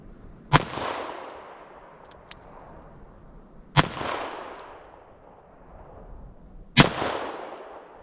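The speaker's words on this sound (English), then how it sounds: "I'm going to pop them off from further out just for fun, see if I can hit the target." .38 Special revolver shots fired at a target 75 yards away, outdoors: three sharp, loud reports spaced about three seconds apart, each trailing off in a long echoing decay.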